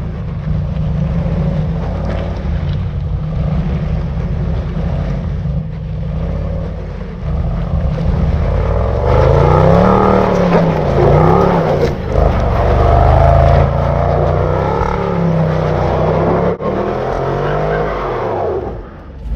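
A Range Rover Sport grinds up a muddy off-road hill. Its engine drones steadily, and the tyres churn and whine louder as it climbs, with no talk over the sound.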